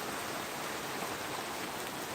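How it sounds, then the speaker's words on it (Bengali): Steady rain falling in the Phulpur Shahpur area, a dense even hiss of drops on surfaces that holds at constant loudness throughout, with no voices. "সকাল ছয়টা থেকে এই ফুলপুর শাহপুর অঞ্চলে বৃষ্টি হচ্ছে"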